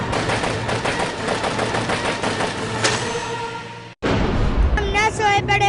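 Sustained automatic gunfire sprays in loud rapid bursts up close, a dense rattling stream that cuts off briefly and then resumes with heavy shots layered over echoing clatter.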